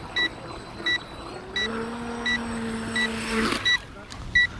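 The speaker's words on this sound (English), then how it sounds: "It's pretty good that it beeps at you when it's done" A short electronic beep from an RC boat battery charger repeats at a steady pace, about once a second, signalling charging is done, with a brief lower two-tone hum sounding partway through.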